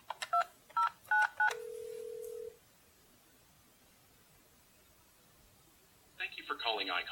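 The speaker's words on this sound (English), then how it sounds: "back out to the main menu and dial the auto attendant" Several quick DTMF keypad beeps sound on an Alcatel-Lucent OXO Connect phone system, followed by a longer steady tone and then a recorded voice answering.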